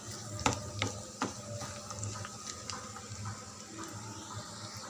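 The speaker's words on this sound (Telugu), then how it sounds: "ఇలా ఆయిల్లో ఫ్రై చేయాలి" Eggs with onion chilli paste frying in oil, a low steady sizzle broken by several sharp spoon taps and scrapes against the pan, fairly quiet overall.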